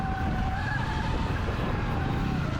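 Dirt bike on small tires grinding and scrabbling over a rocky trail, a steady rough rumble of engine and tire noise close to the rider throughout.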